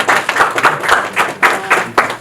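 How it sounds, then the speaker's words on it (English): An audience at a conference presentation claps in loud rhythmic bursts, close and energetic, with regular pulses of applause throughout. "Clap it up."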